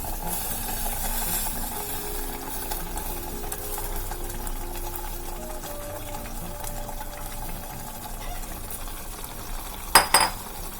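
Soaked seeraga samba rice and green gram being stirred in a pot, a steady soft scraping and swishing that continues throughout, ending in a couple of sharp knocks.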